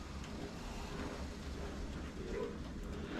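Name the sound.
dishwasher running in background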